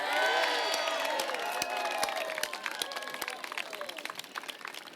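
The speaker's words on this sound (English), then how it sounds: "one more big round of applause to our leader," At a park opening outdoors, a crowd bursts into loud clapping and cheering with whoops, strongest at first and then thinning into scattered claps over a few seconds.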